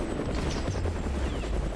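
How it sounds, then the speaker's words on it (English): Helicopter in the video game Maximum Action, a steady low rotor drone with broadband engine noise, fairly loud and continuous through the whole moment with no talk over it. "That chopper just went to the buildings."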